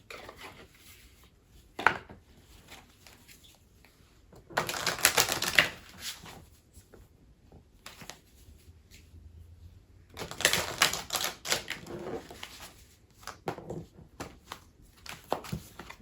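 A tarot deck is shuffled in bursts, with quick riffling clatters that come in two main flurries, separated by quieter stretches and single card snaps nearby.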